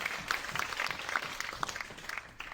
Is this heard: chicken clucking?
no